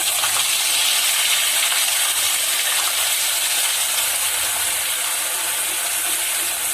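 Steady, loud sizzling hiss of onion paste frying in hot oil, continuous and unbroken with no talking.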